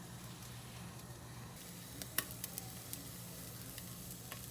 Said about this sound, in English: This was undercooked, so I am just frying it up right now.